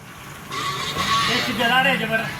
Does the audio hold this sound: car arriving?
yes